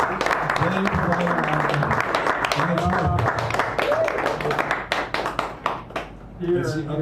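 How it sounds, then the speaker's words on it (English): A cafe audience at a poetry evening applauding its hosts, with scattered individual claps and a round of hand-clapping under ongoing talk and voices, the clapping thinning toward the end. "give Teddy and Fiona a round of applause because they are the hosts."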